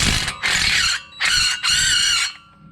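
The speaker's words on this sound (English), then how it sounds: "Now what I'm going to use is just a small impact." A small impact wrench with a 7 hex bit hammers at a brake caliper bolt on a VW Jetta MK5, firing three loud, close whining bursts separated by short silences.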